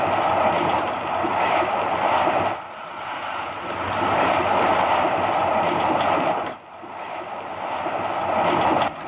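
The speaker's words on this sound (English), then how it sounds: "we'll all have that extraordinary experience going around the corners as the train just leans over and leans back again" A tilting high-speed train rounds a bend at speed, a loud steady rumble and roar of rail noise with brief dips as cars pass, no voices.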